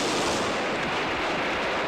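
Dense, continuous gunfire crackles and rumbles in a drama scene, a rapid wash of shots that sounds somewhat distant, with no speech over it.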